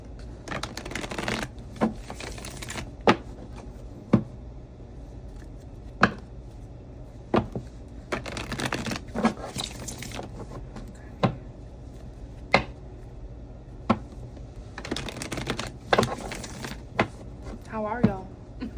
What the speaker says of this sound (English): We're just going to shuffle and see what happens.